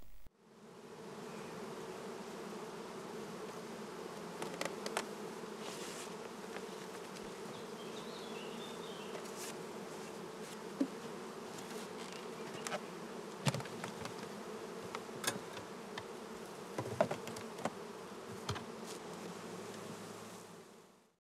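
Honeybees buzz around an opened multi-box Langstroth-Root hive, a steady close drone with individual bees zipping past the microphone now and then, with no talking.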